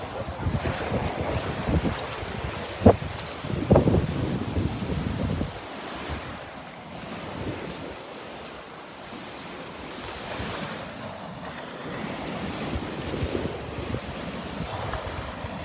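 Ocean waves wash up to a beach boardwalk at Delnor-Wiggins, a steady surf rush with heavy wind buffeting the microphone and a couple of sharp thumps near the start.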